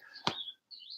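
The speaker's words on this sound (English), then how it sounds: "I don't know if you can hear it, but there's birds outside." Two brief, high bird chirps, quiet and a little distant, separated by a short silence.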